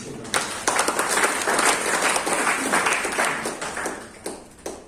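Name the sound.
congregation applause in church service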